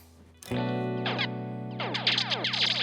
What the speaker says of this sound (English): let's listen to the grain delay